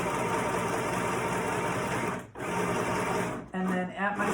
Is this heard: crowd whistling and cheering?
no